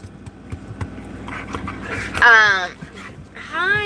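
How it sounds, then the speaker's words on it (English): Several excited puppies pant rapidly and let out high whimpers and whines as their owner arrives home, someone talking to them warmly and close throughout, with squeaky cries rising near the end. "I got some cute puppies over here"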